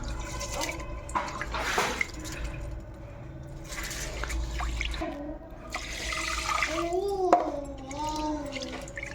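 Water sloshes and drips as rice is swished and rinsed by hand for coconut milk kanji, with soft splashes and a faint voice in the background.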